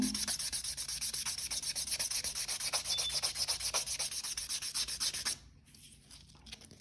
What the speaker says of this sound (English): I like to start right here on the cuticle area, and then just kind of buff the whole nail